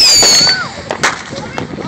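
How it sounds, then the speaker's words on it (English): Fireworks at an Independence Day beach party on the coast at Long Beach, Washington: sharp pops and crackling bursts go off close by, with a whistling rocket trail early on and loud scattered reports after. "Fireworks, baby. Independence Day going nuts."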